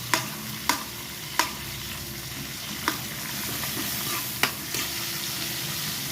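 Tomatoes sautéing for a chayote stir-fry sizzle steadily in the pan while a utensil stirs and mashes them, sharp scraping clacks against the pan breaking through the constant frying hiss every second or so.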